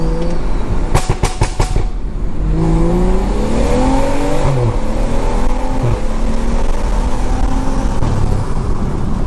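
A loud turbocharged Stage 2 BMW engine revving hard and climbing through the gears, rising tones sweeping upward, close and continuous, with a few sharp exhaust pops near the start.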